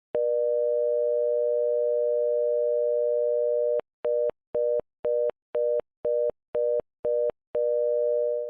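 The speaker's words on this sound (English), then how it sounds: "all I did was combine 480 Hz with 600, and it makes this dial tone" A synthesized telephone dial tone, built by combining 480 Hz and 600 Hz tones, hums steadily, then breaks into about a dozen rapid stuttering interruptions before returning to a continuous tone, clean and alone.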